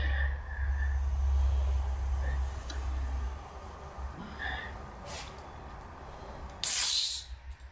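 A spray gun applies paint to Harley Sportster Ironhead XLCH motorcycle parts. A steady low hiss of spraying runs through the first few seconds, followed by quieter stretches and a sharp, loud burst of spray near the end.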